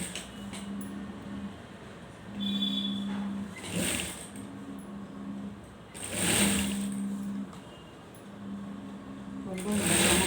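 Sewing machine stitching cloth in short bursts of close, steady mechanical whirring, with pauses between runs and a voice talking over it.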